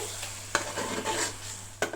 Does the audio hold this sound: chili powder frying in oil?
yes